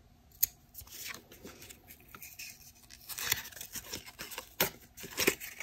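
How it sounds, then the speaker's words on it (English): Scissors snip a small paper strip for a tag in a coffee-filter pumpkin craft, a series of quiet, close crisp cuts and paper rustles spread unevenly over several seconds, with no voices. "So I'm going to choose this little tag and just cut another little strip here."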